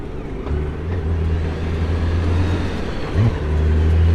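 BMW K1600 Grand America motorcycle from 2023, its engine droning steadily at close range with a brief rise in pitch partway through, no voices over it.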